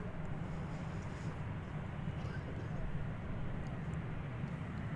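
An airliner inbound from London descends toward DFW Airport, a soft, steady distant engine rumble running beneath a voice talking throughout.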